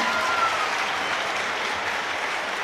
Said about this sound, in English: Draws applause from the crowd.